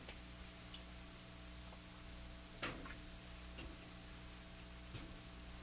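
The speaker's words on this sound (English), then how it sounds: "You hear my furnace ducts clicking?" A few faint, sparse clicks and ticks from furnace ducts sound over a steady low hum and hiss, spaced irregularly a second or so apart.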